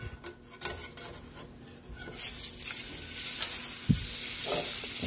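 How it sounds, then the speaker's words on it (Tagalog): Butter sizzling in a pan at the start of sautéing for chicken afritada, a soft crackling fry that swells louder partway through, with light stirring and utensil clicks, no talk. "Magigisa na tayo para sa ating chicken apritada."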